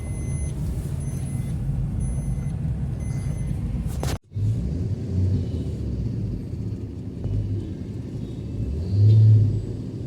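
Slow road traffic in Mumbai, a continuous low rumble of cars, buses and trucks with idling engines and occasional revving, briefly interrupted and then resuming, with a louder vehicle passing near the end.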